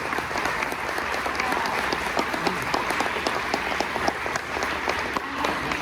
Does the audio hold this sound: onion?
no